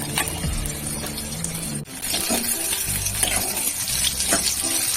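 Chicken pakora coated in egg batter fries in hot oil, with a steady bubbling sizzle, some watery hiss and a faint clink partway through.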